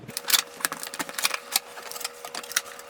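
Unboxing Audioengine A2+ powered speakers: a quick run of crisp clicks, taps and rustles from the box being opened, close and irregular, with no talking.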